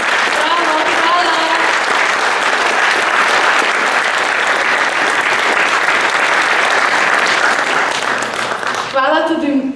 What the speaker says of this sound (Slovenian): tako da prosim en zelo velik aplavz